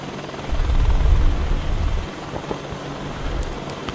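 Helicopter in the DayZ Red Falcon mod video game, a steady rumbling rotor and engine roar that swells loudly early on, then continues at a lower, constant level with no talk.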